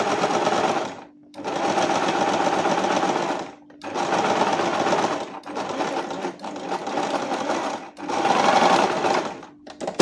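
A sewing machine stitches a French seam in fabric, running in four steady bursts separated by short pauses, loud and close with no talking.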